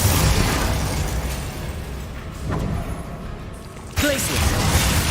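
Explosive spell blasts in the Hogwarts Legacy video game, with a loud roaring burst that fades out and a sharper second blast near the end, over constant battle noise.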